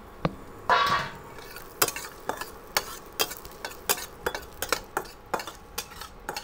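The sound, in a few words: cashews and raisins frying in ghee in a pan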